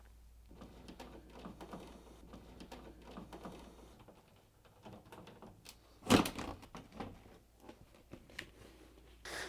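Three screws on the top panel of a Hoover tumble dryer are undone with a 7mm socket: sparse metallic clicks and light rattles, with one sharp, louder clunk near the middle, all close up and without talk.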